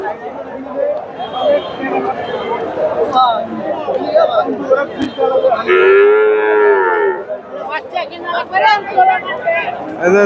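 A Jersey calf gives one long, loud moo in the middle of a busy crowd at a livestock market in Bogura, with people chattering all around.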